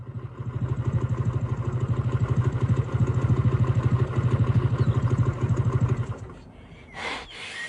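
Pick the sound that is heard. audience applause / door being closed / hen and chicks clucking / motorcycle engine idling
motorcycle engine idling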